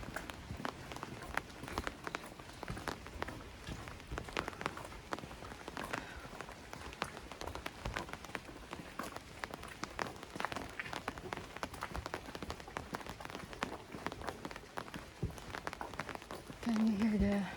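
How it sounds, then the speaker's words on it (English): Steady rain falls on a quiet residential town street of old houses in Shin Koshigaya, Japan, on a rainy Saturday. Dense pattering drops tick continuously on nearby surfaces throughout. "Can you hear the sound of the raindrops?"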